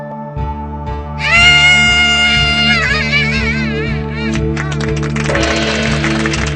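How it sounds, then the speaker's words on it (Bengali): A Bengali cartoon character, Jaga, lets out a loud, sustained shout in a shouting contest, a long wavering cry rising to a strained peak and trailing into ragged noise over a steady rhythmic musical backing. "জগার চিৎকার শুনলেন।"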